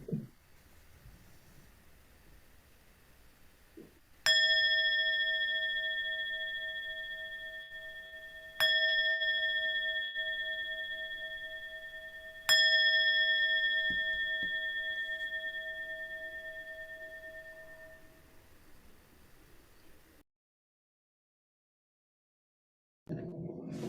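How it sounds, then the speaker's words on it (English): A meditation bell is struck three times to close a solstice sitting, each clear ring sounding alone in a quiet room and fading slowly before the next, ending in silence. "if you could just ring the bell to end the sitting"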